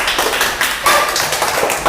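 A class in an English speaking session applauds a student, a dense patter of many hands clapping together at close range for a couple of seconds, with no voices.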